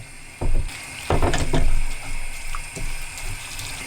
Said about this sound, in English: Keep adding pasta water until you get it to the consistency that you want it.